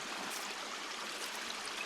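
Water pours steadily at a mountain water point near a refuge, a continuous close rushing splash with no pauses or voices.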